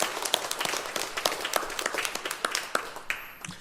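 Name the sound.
congregation applause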